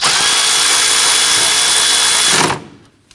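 A power tool runs loudly and steadily, close up, while tightening the AC line bracket bolt during alternator replacement on a 2009-2015 Honda Pilot. The whir holds for about two and a half seconds, then winds down and stops.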